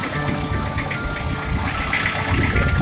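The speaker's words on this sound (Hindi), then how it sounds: "ये इंजन है" An engine runs at a steady idle with a faint knocking throb, loud and close, continuous throughout with no talking.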